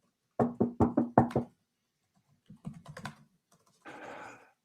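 Aggressive typing on a computer keyboard, likely in a courtroom during a preliminary trial: a burst of five or six loud, heavy keystrokes, a pause, then a scattered run of lighter taps and a brief rustling clatter, close and without talk.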